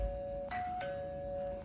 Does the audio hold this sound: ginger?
no